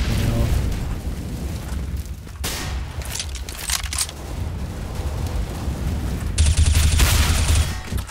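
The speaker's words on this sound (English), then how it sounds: "Incendiary." Burning incendiary grenade in Counter-Strike: Global Offensive, a loud sustained crackling roar broken by sharp bursts of gunfire and blasts, ending in a bright hissing flare.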